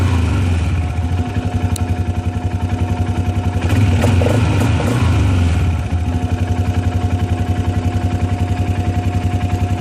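A Polaris Sportsman ATV engine idles steadily in park with a close, even, rhythmic putter, a brief rise near the middle and then back to a constant idle.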